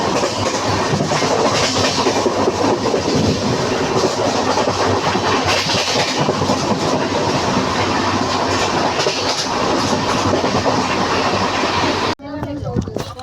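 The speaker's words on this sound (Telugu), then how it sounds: "సో చెన్నై ముందు నుంచి అయితే మన ట్రైన్ అయితే కదులుతుంది." Mannargudi–Jodhpur express train running on rails, a loud steady roar of wheels and carriage rumble with rhythmic clatter throughout, cutting off abruptly near the end.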